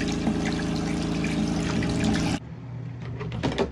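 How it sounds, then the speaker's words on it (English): Water runs steadily from a tap beside a portable washer and dryer as hands are washed, a close continuous gush that stops abruptly midway, leaving faint drips and handling sounds. "Wash my hands a little."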